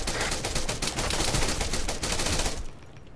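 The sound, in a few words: gunfire in the video game Arma 3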